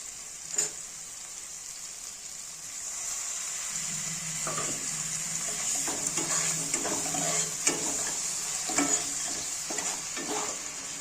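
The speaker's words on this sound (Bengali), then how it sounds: "তারপরে অল্প পরিমাণে একটু জল দেবো।" A pan of cabbage with fried lentil dumplings hisses steadily, then a little water splashes in and the sizzling shifts, followed by scattered scraping and stirring clatters up close.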